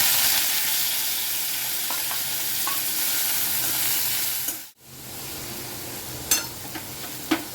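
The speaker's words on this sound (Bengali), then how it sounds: "আমি চিংড়িটা একটু হালকা নেড়ে উঠিয়ে নেব।" Prawns stirred in a pan give a steady, close sizzle that briefly drops out near the middle, then returns with a few sharp scraping taps as they are moved.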